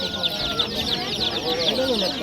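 Chickens cluck and call over one another in a steady, busy chorus at a poultry bazaar in Jomashuy, Mingbuloq, where chicks and ducklings are on sale.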